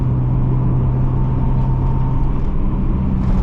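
A 1989 Mazda Miata engine runs at full throttle, heard from inside the car as a loud, steady, droning hum with road rumble underneath and no break.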